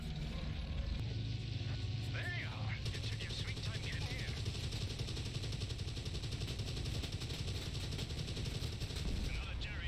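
Gunfire in a video game aerial dogfight sounds as a rapid, sustained stream of machine-gun bursts over a constant engine drone, with short chirping tones near the start.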